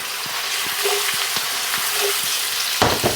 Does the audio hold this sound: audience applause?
no